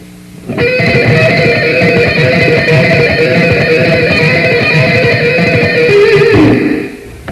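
Electric guitar rips through a rapid, continuous run of notes, dense and distorted-sounding, ending on a held note.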